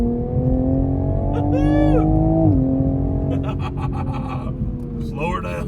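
A 2021 Toyota GR Supra 3.0T on its stock exhaust drones loudly and steadily nearby, its note dipping abruptly once as if shifting, then carrying on with a throaty, slightly gurgling hum.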